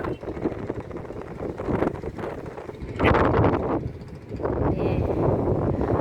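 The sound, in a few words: strong wind swaying trees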